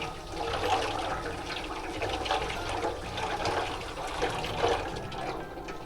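Water runs steadily and loudly while dog toys are rinsed at an animal shelter, a continuous splashing rush with no voices.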